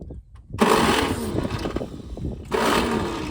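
The starter on a 1959 GMC truck, pulled from a tree after long neglect, cranks the engine in two loud, close bursts separated by a brief dip.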